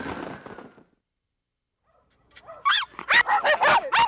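Dogs at a dog show yip and bark in a quick burst of high, excited calls after a brief quiet gap, with a faint earlier sound fading out at the start.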